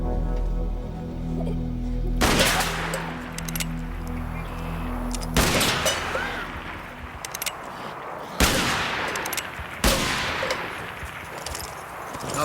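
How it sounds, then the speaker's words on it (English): Four or five loud gunshots ring out at intervals in a Western drama setting, each followed by a long echoing decay over low background rumble. "Not bad shooting."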